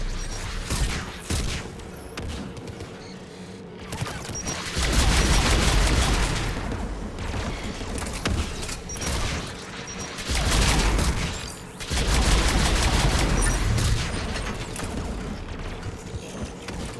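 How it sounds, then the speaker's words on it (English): Anti-aircraft guns firing in the Mass Effect 3 video game come as repeated loud bursts of heavy rapid fire, each several seconds long with short gaps, over a mechanical rattling background. "AA guns ahead."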